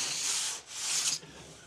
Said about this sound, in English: just going to give it a light sanding with 220